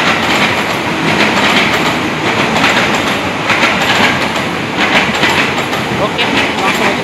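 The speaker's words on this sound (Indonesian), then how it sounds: "Ini ada KRL." A KRL commuter train rolling through Tebet station in Jakarta, a steady dense rumble with faint rhythmic clatter that holds at an even level throughout, close by.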